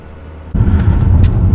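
Volvo C40 moving slowly at around 30 km/h through a suburban street, heard from inside the car as a sudden steady low road rumble with a faint hum.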